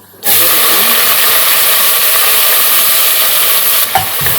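Whole spices sizzle loudly in hot oil the moment they drop into the pan: cinnamon, cloves, cardamom, bay leaf and star anise. The frying starts suddenly and keeps up as a close, dense, steady hiss.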